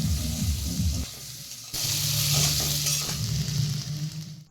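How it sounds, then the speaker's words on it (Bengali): Potatoes seasoned with salt and turmeric fry in hot oil in a kadai, giving a loud, crackling sizzle with stirring scrapes. The sizzle drops briefly, then returns strongly and fades near the end. "ওই একই তেলেই আলুগুলোকেও আমি ভেজে নেব আলুর মধ্যে দিয়ে দিচ্ছি সামান্য পরিমাণে লবণ আর হলুদ গুঁড়ো"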